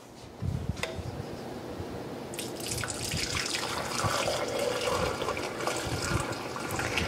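Custard mixture of egg yolks for peaches-and-cream frozen custard is poured through a strainer, making a continuous close liquid trickle and splatter that builds after a couple of seconds and runs steadily, with no talking.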